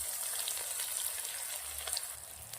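Mustard seeds, cumin, asafoetida, ginger, garlic and onion sizzle in hot oil for a khichdi, a steady close hiss with faint crackles throughout and no voices.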